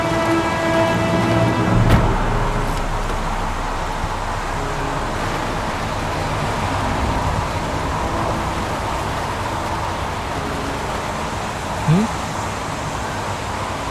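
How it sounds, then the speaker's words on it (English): Steady pouring rain in the video game Heavy Rain, a constant hiss of downpour throughout with some music at the start and a voice talking over it. "Goddamn rain hasn't stopped pouring since I arrived."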